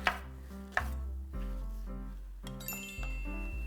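A knife slices through soft shiitake mushrooms from a broth in a few quiet, close taps on a cutting board, heard over a low background tone.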